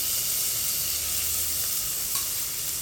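Mushrooms and cooked horse gram sauté in hot ghee for a sweet payasam, a steady close sizzle and hiss with faint stirring scrapes, no voices.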